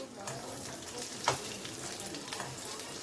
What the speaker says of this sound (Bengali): তো আলুটাকে ভেজে নিচ্ছি একটু,